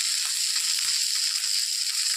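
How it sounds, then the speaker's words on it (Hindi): Mahurali fish frying in oil in a pan, a steady hissing sizzle filling the short stretch, close and even with no talk over it. "देखिए फ्राई हो रहा है, कितने प्यार कितना अच्छी तरह से फ्राई हो रहा है।"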